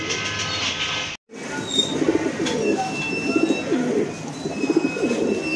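Pigeons coo in a loft where large red checker racing pigeons are kept for sale. The coos come in repeated rhythmic bursts, close and fairly loud, with some higher chirps and no talk.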